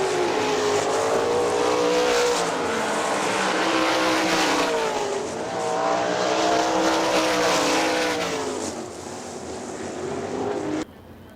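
Sprint cars race on the dirt oval at Hartford Speedway Park, heard as a loud continuous roar of engines whose pitch rises and falls as cars pass, with the sound dropping away at the end.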